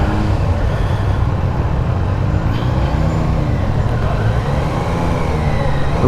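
A 2024 Triumph Daytona 660 motorcycle engine drones steadily while riding, a continuous loud hum mixed with road and wind noise, with another Daytona running ahead; no talking.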